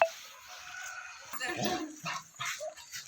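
A pet Labrador gives short, soft yips and whimpering barks at a distance, fairly faint, in a few quick bursts over about three seconds, with some indistinct voices in the background.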